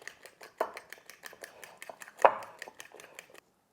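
Beaten eggs with salt whisked by a fork in a bowl for an omelette, a quick, regular run of light ticking clicks, close and fairly quiet, with a couple of louder knocks.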